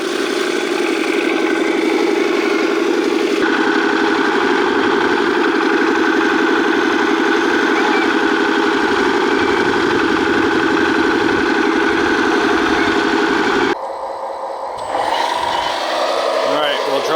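A small RC loader engine runs steadily at a loud, even idle-like drone for most of the stretch, cutting out briefly near the end before resuming more softly.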